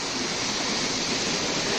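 Steady broadband rush of river water flowing in the Verul river near a Kokan village, a continuous close wash with no pauses or voices.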